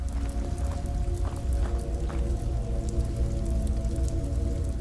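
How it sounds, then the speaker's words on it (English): Water dripping inside a dark cave in the video game Skyrim, scattered soft drips ticking over a steady low ambient rumble, with no talking. "or it could just be water dripping."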